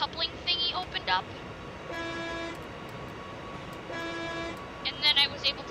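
ICE3 high-speed train in Train Simulator 2015 sounding two long steady horn blasts of equal pitch over a rolling rumble, with speech in between and a few sharp clicks.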